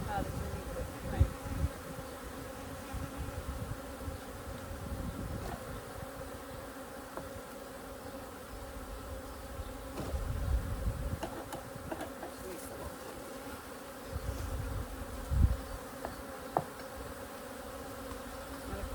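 Bees buzz steadily close by around an open hive during a frame inspection, a dense droning hum with occasional louder passes and a few soft knocks.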